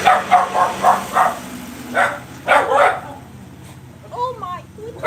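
Several dogs bark in quick repeated bursts, loud and close, in an uneven rhythm, then fade into a few thinner whining yips.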